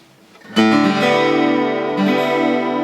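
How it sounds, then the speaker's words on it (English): A sustained electric guitar chord rings out through a Roland Cube Street amplifier with a shimmering, wavering chorus effect, followed by a second strummed chord that keeps ringing. "we do have other effects, obviously, like our chorus"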